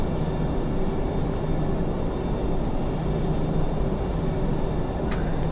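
Steady cabin or engine hum of a Ryanair Boeing 737 in Microsoft Flight Simulator X, a loud continuous drone with faint tonal whine, unchanging throughout and with no talking.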